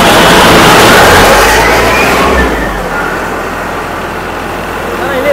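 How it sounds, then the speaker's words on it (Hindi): A loud air compressor for rust blasting drones with a dense rumbling roar that eases slightly after a few seconds, continuous and close, with faint voices underneath. "तो ये है एयर कंप्रेसर।"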